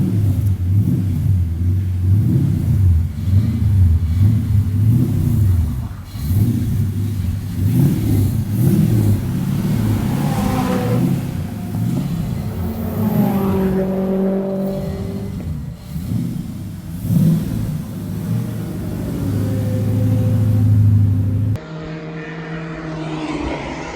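A Mazda MX-5 Miata NC with a swapped-in LS1 V8 engine warming up on a test day, a loud deep rumbling idle with repeated revs rising and falling over about twenty seconds, close and without talk.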